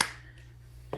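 A single sharp clap from children playing a clapping-on-command game, brief and close, followed by near silence and the start of another hit at the very end.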